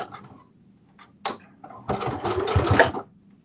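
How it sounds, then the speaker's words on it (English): A sewing machine stitches a short back stitch with a quick mechanical whir and rattle lasting about a second, set off by a brief click and clunk beforehand. "going to do a little back stitch right here"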